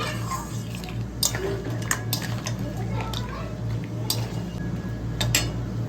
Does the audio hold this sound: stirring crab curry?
yes